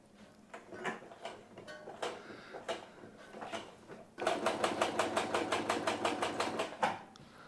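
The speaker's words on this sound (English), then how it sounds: "It's just a matter of stitching all these parts together." A sewing machine stitches motorcycle seat upholstery panels, first in short irregular bursts of ticking needle strokes, then a steady fast run of evenly spaced stitches, close and fairly quiet.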